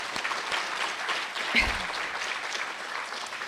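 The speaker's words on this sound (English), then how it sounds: "Let's give a big round of applause to the students." Conference audience applauding students at a business forum opening, a steady broad clapping wash, fairly quiet and distant, with one brief low thump partway through.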